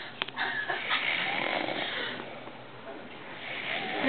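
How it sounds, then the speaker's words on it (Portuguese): A person snoring, with a loud snort near the start and then steady, rasping breath noise that continues throughout, fairly close. "roncando"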